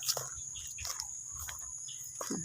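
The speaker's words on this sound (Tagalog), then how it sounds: "Ay ibon." A bird calls outdoors in the morning with a few brief, faint chirps over a steady high insect buzz, followed by a short rising call near the end.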